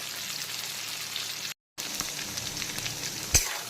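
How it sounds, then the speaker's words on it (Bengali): Peanuts frying in a pan make a steady, close sizzle with a short silent gap midway and one sharp knock near the end. "এখন কিন্তু বাদামগুলো খুব ভালো করে ভেজে নিয়েছি।"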